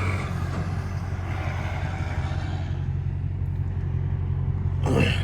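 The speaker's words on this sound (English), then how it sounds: "That boy shifting the gears in that truck" A semi truck shifts gears on the road, its low, steady engine rumble droning close by throughout, with a brief hiss near the end that may be an air brake.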